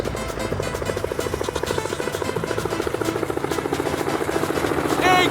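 A helicopter's rotor chops in a fast, steady rhythm, loud and continuous from start to finish.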